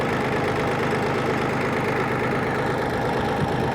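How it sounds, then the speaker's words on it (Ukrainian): A motor cultivator's small engine runs continuously at close range with a dense, rough idle and a knocking pulse. The sound is steady from start to finish, with no voices. "Отакий культиватор. Мені дуже подобається, як він працює."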